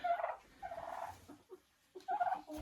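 Pet turkeys gobble in quick warbling bursts, three distinct calls with pauses between, fairly close but soft, with faint handling noise and no talk.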